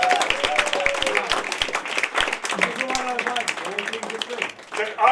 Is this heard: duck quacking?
no